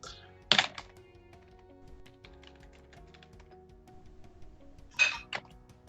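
Typing on a computer keyboard while entering network commands, with soft scattered key taps and a couple of louder clacks near the start and end against a quiet background.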